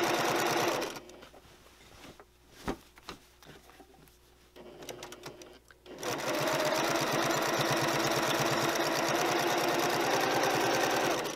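Sewing machine top stitching a panel tote bag, a loud rapid mechanical whirr that stops for a few seconds of small handling noises and then runs steadily again.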